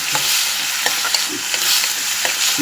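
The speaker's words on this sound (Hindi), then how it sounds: "अब देखिए मैं इसको ये भून लूँगी" Vegetable with turmeric, salt and coriander powder stir-fried in a pan, a steady close sizzle with repeated scraping strokes of the spoon, no voices.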